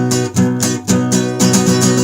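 Guitar strumming pattern, a close, loud run of rhythmic strums in uneven groups with brief pauses between bursts, no talking.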